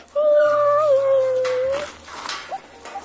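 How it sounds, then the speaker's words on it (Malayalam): Two possessive pet dogs at home squabbling: a long high-pitched whine rises and wavers over a low rumbling growl, then breaks into shorter snuffling yips and grumbles. "ഇതാണ് രണ്ട് പൊസസീവ് ആയിട്ടുള്ള പട്ടികൾ വീട്ടിലുണ്ടെങ്കിലുള്ള പ്രശ്നം"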